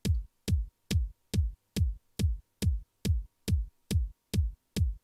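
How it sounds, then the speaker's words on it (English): Twelve evenly spaced layered electronic kick drum hits, combining high and low frequency layers, with a sharp click and deep booming tail, repeating at a steady tempo, alone and clean. "I created a layered kick where we've got a high frequency,"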